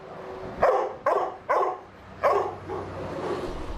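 Several dogs bark in a shelter's kennels, four sharp nearby barks in quick succession followed by a softer, lingering yelp, against a steady background hum.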